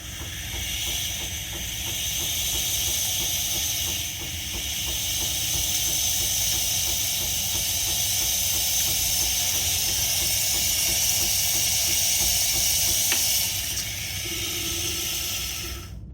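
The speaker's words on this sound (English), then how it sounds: "We're just going to press the steam button on the side," A Quick Mill 0820 Compatto espresso machine's steam wand gives off a steady, loud, close hiss that runs continuously for the whole stretch with only slight dips and no talking.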